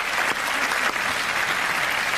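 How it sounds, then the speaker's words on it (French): Airplane passengers applauding the pilot after a dramatic landing, a continuous burst of crowd clapping, steady and fairly loud from start to finish. "Et là, on applaudit le pilote."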